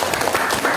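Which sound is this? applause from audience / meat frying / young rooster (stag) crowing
applause from audience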